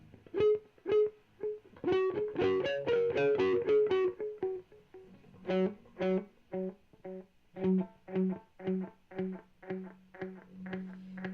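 Guitar through a Rowin delay pedal with every knob turned fully up, notes piling into dense, rapidly cycling repeats that build and keep sounding in a steady, runaway self-oscillating pulse.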